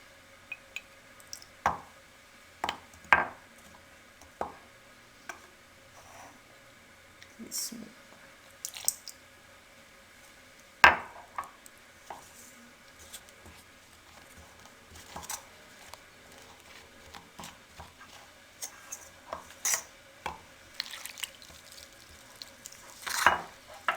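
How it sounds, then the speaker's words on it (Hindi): Corn flour is stirred into lukewarm water for chicken corn soup, heard as quiet, scattered clicks and soft wet scrapes at an uneven pace over a near-silent background. "अब कॉर्न फ्लोर को हम नीम गर्म पानी के साथ अच्छे से मिक्स कर लेंगे।"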